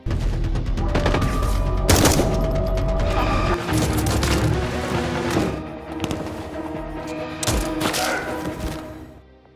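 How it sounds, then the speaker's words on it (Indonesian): A gunfight in an action film, with dense bursts of gunfire, booming impacts and mechanical clatter layered into a loud, continuous battle mix. "terjadilah baku tembak"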